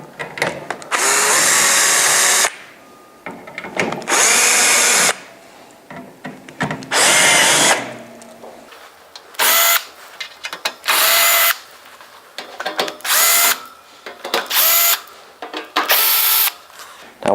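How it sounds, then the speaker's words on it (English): Loud cordless power drill driving out T25 Torx screws from the fan grill of a Santa Fe Advance2, whirring in repeated bursts of about one to two seconds separated by short pauses. "I'm going to use a drill."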